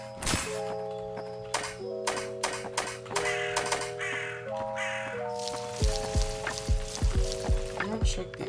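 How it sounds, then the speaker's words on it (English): Crow cawing in the Pumpkin Panic video game, set against looping game music with steady tonal notes and clicking, mechanical sound effects throughout. "Wait, where's the crow?"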